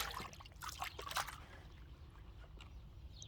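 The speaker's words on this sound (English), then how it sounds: "put some water in here, and let that soak" Water is poured from a container over rock samples gathered from a desert wall, set to soak. A short splashing trickle runs for about a second, then fades to quiet background with faint small drips.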